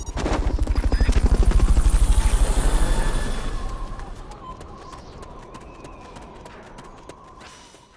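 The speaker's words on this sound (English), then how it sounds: "Fulton recovery helicopter is complete." The Fulton recovery helicopter in the video game Metal Gear Solid Peace Walker thumps loudly with fast rotor beats that swell and then fade into the distance, followed by scattered sharp game sounds.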